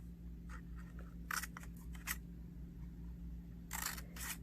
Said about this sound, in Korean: 가위로 이 길이의 3분의 2 정도 여기까지 가위로 오리겠습니다